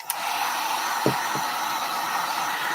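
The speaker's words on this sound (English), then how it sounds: "I'm going to run the dryer over it again real quick." A handheld heat dryer blows a steady, close hiss while drying ink on a piece of artwork, with a couple of faint low knocks partway through.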